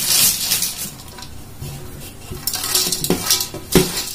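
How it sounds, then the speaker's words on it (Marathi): Peanuts, roasted chana and coconut pieces are tipped into a pan of thin poha chivda, producing quick rattling clatters and a few light metallic scrapes and stirring sounds at close range. "आता मी या पोह्यामध्ये हे शेंगदाणे, दाळवा आणि हे खोबऱ्याचे तुकडे टाकणार आहे।"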